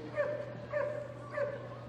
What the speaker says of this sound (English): he'll drop off and go into a sit and bark